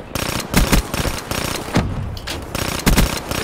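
Rifle fire from an XR-2 in the video game Black Ops 3 during a Hardpoint match: rapid, loud bursts of close gunshots in quick rhythmic strings, separated by short pauses, with no talk over them.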